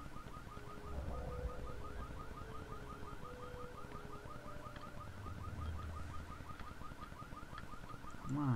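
A car alarm in the video game Dead Island wails steadily and loudly for the whole stretch, its repeating electronic whoop cycling without pause over a low rumbling background.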